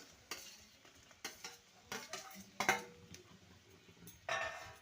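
Fried potato and ridge gourd stirred into a cooked-down spice paste, with sharp scraping strokes of a spatula against the pan over a low, steady sizzle, the stirring coming in irregular bursts close by.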